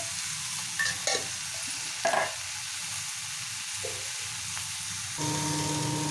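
Oats upma with vegetables, sweet corn and lentils is stirred in a hot pan, giving a steady sizzle broken by occasional scraping clinks of the spoon, close up.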